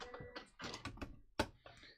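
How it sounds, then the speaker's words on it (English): A sewing machine back-tacks a couple of stitches while finishing a tapered pants hem with a drawstring, giving short mechanical whirring bursts and clicks at close range. "I'm just going to overlap my stitching by about 1/4 of an inch and back tack a couple stitches"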